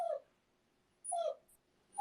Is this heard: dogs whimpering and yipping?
yes